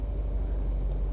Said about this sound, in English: that is your exhaust. If I press this, then I rev